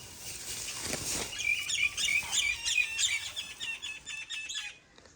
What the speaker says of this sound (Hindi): परिंदों ने सी रौनकें लगाई हुई हैं घर में।